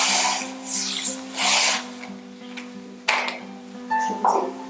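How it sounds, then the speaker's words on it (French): A blade drawn along a ruler through a strip of cardboard gives several close, raspy scraping strokes of uneven length over a steady low electrical hum, with no talk. "Je positionne donc ma règle sur ce marquage et je coupe"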